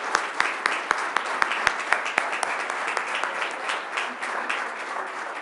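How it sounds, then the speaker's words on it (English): Audience applause for awardees at a Board of Education meeting, with a few sharp nearby claps standing out early over a steady crowd clapping that continues evenly. "won't everyone give all of our awardees another round of applause?"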